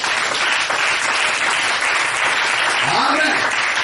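A church congregation claps loudly and continuously to acclaim the name of Jesus in a dense, steady roar of applause. Voices and shouts are mixed into the sound.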